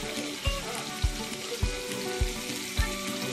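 Whole spices sizzle steadily in hot oil in a pan for an Assamese sour fish curry, with turmeric, coriander and cumin added. Five soft stirring thumps fall at regular intervals under the continuous crackle.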